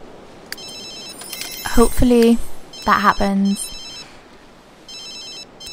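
A telephone rings inside The Sims 3 Island Paradise game, its repeated electronic trill sounding in short bursts at the start and end, with a person talking loudly over the middle.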